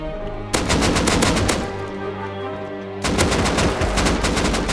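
Rapid automatic gunfire in the survival video game Rust, two loud close bursts of fast repeated shots separated by a short lull, with no talking.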